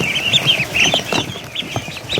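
A group of ducklings peep in high, rapid, overlapping chirps close by, with soft rustling and shuffling underneath and no voices.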